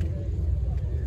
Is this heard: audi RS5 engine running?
yes